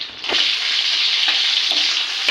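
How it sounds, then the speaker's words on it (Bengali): Ghee frying in a hot pan for dum pulao, a steady, loud, close sizzle that holds evenly throughout with faint scraping taps; no voices. "দিয়ে দেওয়া হচ্ছে ঘি পরিমাণ মতো"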